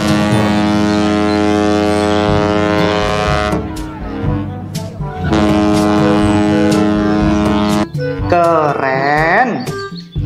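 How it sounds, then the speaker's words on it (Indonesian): A toy ship sounds a loud, sustained horn-like tone that holds for several seconds, breaks off, returns, and then shifts into a rising and falling wavering electronic tone. "Yang ini ada kapal laut."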